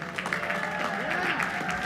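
Queens College class of 2026 graduates applauding at their commencement ceremony, a steady wash of clapping from a large crowd lasting a couple of seconds, with a faint voice mixed in.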